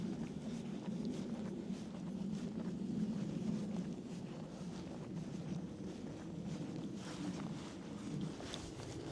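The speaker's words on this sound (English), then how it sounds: "you might hear a bit of wind up here because it is really windy" Continuous wind buffets and rumbles across the microphone on high ground at a stately home park, a steady low roar with occasional gusts and no talking.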